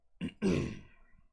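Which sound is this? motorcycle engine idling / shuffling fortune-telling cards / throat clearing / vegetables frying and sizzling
throat clearing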